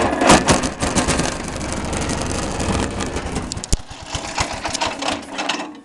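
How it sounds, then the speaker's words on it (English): A cold 1968 Cub Cadet garden tractor engine idles roughly close by, a dense rattling, uneven chug with a sharp knock near the middle and no talk over it. "let's see if I can get it to idle for us."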